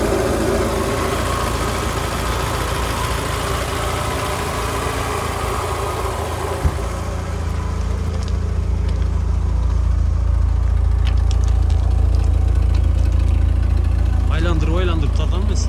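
A used car's engine idles steadily at a roadside sale, a constant low rumble running throughout while people talk over it.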